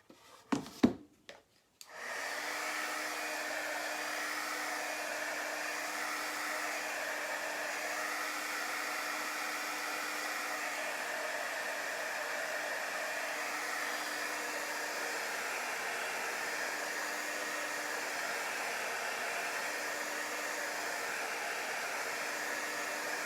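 A hair dryer blows steadily on chalk paste for about twenty seconds, a loud continuous whoosh with a low hum, preceded by a couple of brief knocks and clicks at the start.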